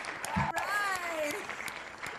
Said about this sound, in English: I'm over here clapping with confetti